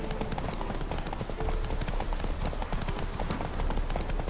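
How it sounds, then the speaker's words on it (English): Steady clip-clop of horse hooves while riding in The Witcher 3 video game, a continuous rhythmic trot at close range with ambient game sound beneath. "I'm actually really bad at horse riding."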